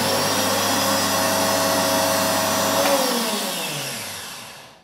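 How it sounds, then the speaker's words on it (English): Omniblend high-speed blender motor running steadily near the microphone, a loud broadband whir with tonal hum that holds for about three seconds, then spins down and fades as it switches off. "let's see what the motor sounds like"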